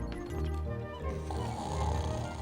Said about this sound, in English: Oh yeah, that's all he does. Snores.